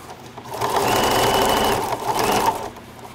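A sewing machine runs a steady stitching burst along the side seam of a tote made from a placemat, speeding up and holding a continuous whir before slowing near the end.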